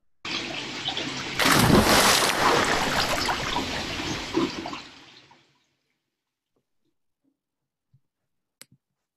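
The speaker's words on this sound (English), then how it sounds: "River sounds swell as he's swallowed by the river." River water rushing and swelling loudly for about five seconds, a dense splashing roar that cuts off abruptly into silence, followed by a few faint clicks.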